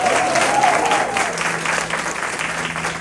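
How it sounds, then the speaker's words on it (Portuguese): A women's church congregation claps loudly and steadily at a worship service, a dense sustained applause with faint voices underneath. "Você pode aplaudir o Rei?"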